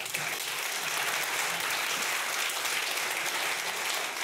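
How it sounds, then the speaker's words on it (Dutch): Dense, steady audience applause fills the room evenly and without pause, a broad wash of many hands clapping at an anniversary event for an arts foundation. "Mag ik alsjeblieft jullie applaus en aandacht voor Aminata Cairo."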